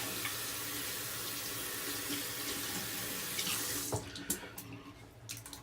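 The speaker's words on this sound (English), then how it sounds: "Let me rinse off my brush." A shaving brush is rinsed under a running bathroom tap, a steady loud rush of water into the sink that cuts off near the end, leaving a few splashes and drips.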